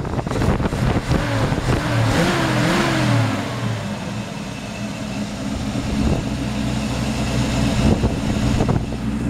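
A 1936 Chevrolet half-ton truck engine runs nearby, rising briefly in a rev early on before settling into a steady, rumbling idle that continues to the end.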